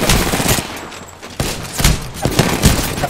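Rapid automatic gunfire in the video game Apex Legends, loud and close, in dense repeated bursts with a brief lull near the middle before the shooting resumes, with no voice over it.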